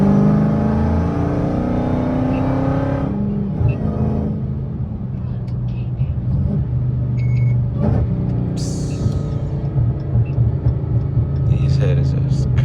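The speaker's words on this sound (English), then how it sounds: "Junk sound like a track on downshifting." A Dodge Hellcat fitted with headers drives at night on city streets, its deep exhaust rumbling steadily close by with crackling pops on downshifts, while someone talks over it throughout.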